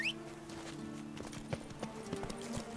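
Horse hooves clip-clopping at a quick pace in The Witcher 3: Blood and Wine, set over steady game music, with a brief whinny near the start.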